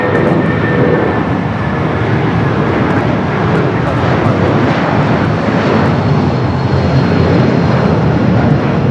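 A Gulfstream-type aircraft takes off from runway 25 left at LAX, its engine roar loud and steady from start to finish, with voices talking over it.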